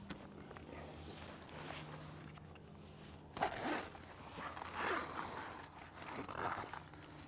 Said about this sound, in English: we'll just zip down to the other end